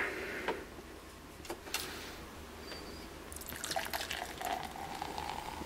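Anchor Liberty Ale beer hard-poured into a glass, a soft splashing, fizzing pour with a few sharp clinks early, then a frothier gush building toward the end, quiet and without talk.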